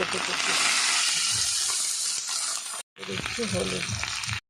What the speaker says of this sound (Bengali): তেল গরম হয়ে গেছে এবার দিয়ে দিচ্ছি তেজপাতা শুকনো লঙ্কা জিরে